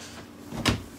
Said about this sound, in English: we have plenty of drawers, four sets of drawers here. Get these open here.